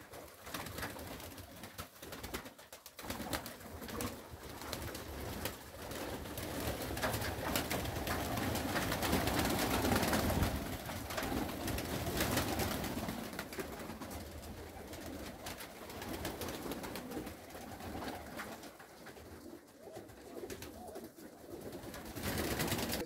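Pigeons coo steadily and continuously at a village dovecote in a Krasnodar region stanitsa, a close, full chorus of overlapping calls with no talking.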